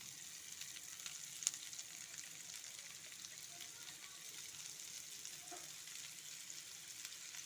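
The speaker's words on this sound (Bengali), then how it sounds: "এবার পেঁয়াজটাকে সুন্দর করে নাড়াচাড়া করে ভেজে নিতে হবে।" Chopped onions fry gently in oil for a ridged gourd bharta, a faint steady sizzle with a couple of soft clinks of the spatula, quiet and close, with no voices.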